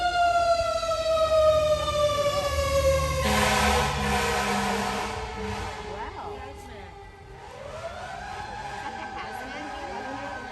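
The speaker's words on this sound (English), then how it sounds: "every time the sirens go by you all, we're going to pause" A loud wailing emergency siren sweeps up and down as the vehicle passes close by, then shifts to a different tone, with traffic noise and some voices.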